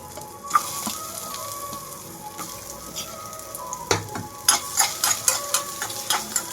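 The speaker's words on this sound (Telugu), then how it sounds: "ఇప్పుడు ఇదే ఆయిల్లోకి కొబ్బరి వేసేసుకుంటున్నాను." Grated coconut hits hot oil in a pan, giving a crackling sizzle that swells after a sharp splash, then rhythmic scrapes and stirring clatter near the end.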